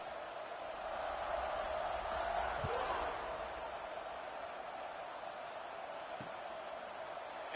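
Steady crowd murmur fills a stadium in an American football video game after a touchdown, a broad continuous roar that swells slightly then holds, with a couple of faint thumps.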